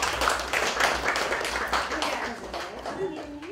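Scattered hand clapping from a small group at a school graduation certificate ceremony, fairly close and uneven, fading as a voice begins speaking near the end.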